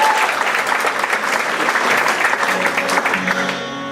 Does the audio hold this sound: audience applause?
yes